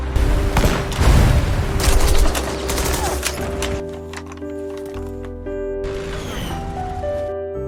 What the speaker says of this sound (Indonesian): Setelah itu, Lyuda membidik komandan musuh dan berhasil menembak tepat sasaran.